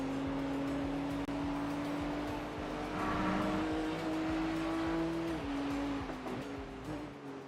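A GTP prototype race car approaches at Watkins Glen, its engine a steady rising drone that swells nearer and then shifts pitch, set against a broad wash of track and wind noise.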